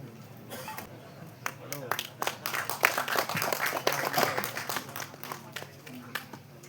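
An audience at a Tamil film's music and trailer launch event breaks into sustained clapping that swells, holds and slowly thins, with a voice speaking over it.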